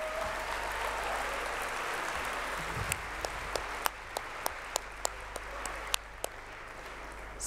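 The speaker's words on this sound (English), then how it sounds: "Can we give them a massive round of applause?" At a closing plenary session, an audience applauds competition winners: soft, distant clapping under a low hum, thinning out into scattered individual claps.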